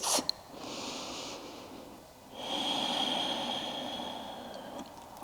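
Slow, deep breaths during a vinyasa yoga flow, a soft airy inhale followed by a longer, fuller exhale, close and quiet with no talking.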